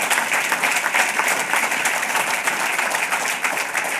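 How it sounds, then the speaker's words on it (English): Steady, dense audience applause fills a speech hall during civic remarks on a city's financial turnaround, holding at an even, fairly loud level throughout with no voices on top. "And yeah, you can clap for that."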